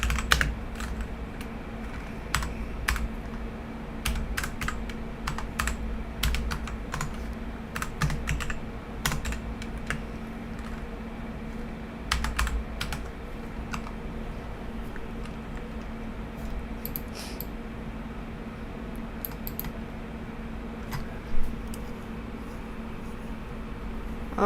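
Keys clatter on a computer keyboard as a limit order for gold trading is entered, quick irregular bursts of clicks, close and fairly faint over a low hum.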